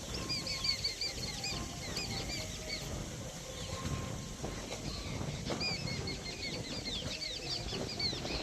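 A group of ten released domestic pigeons beat their wings in bursts of soft flapping, with high chirping birds and outdoor ambience in the background and no talk.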